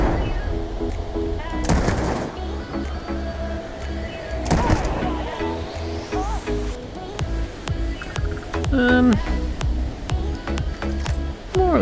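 In the video game Starfield, a gun fired while aiming down sights lets off several loud shots and short automatic bursts, spaced irregularly with pauses between them.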